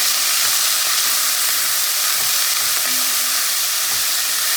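About six ounces of andouille sausage frying in a pan over medium heat: a loud, dense, continuous sizzle and hiss close up, with faint stirring clicks underneath and no talk.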